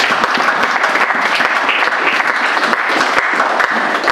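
An audience at a church service claps steadily for several seconds, dense continuous applause up close with no voices standing out.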